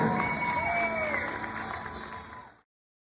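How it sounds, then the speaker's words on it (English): Applause and cheering from a crowd at a middle school 8th grade night recognizing the 8th grade girls basketball players and manager, with whoops and a tonal sound riding over dense clapping that fades out after about two and a half seconds. "let's give one more big round of applause to our 8th grade girls basketball players and manager"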